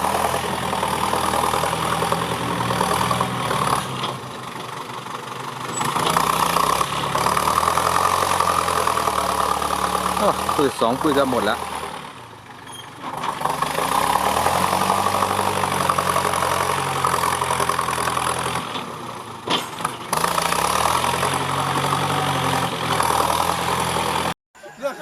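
A Yanmar EF494T tractor engine with a straight-through exhaust pipe, pushing a dirt pile, runs loud and close, idling with a rough, knocking rumble and rising in several revs, while someone talks over it.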